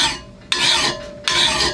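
A coarse hand file sharpens a lawnmower blade in two long, loud rasping strokes close up, separated by a brief pause, with no talking.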